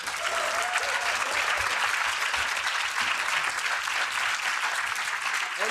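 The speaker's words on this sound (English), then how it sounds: "Please a round of applause as well." Steady, dense clapping from a large audience fills the whole stretch, sustained and even without pauses.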